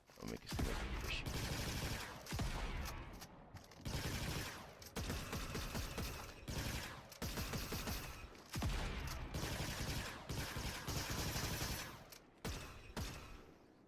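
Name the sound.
gunfire in the video game GTA Online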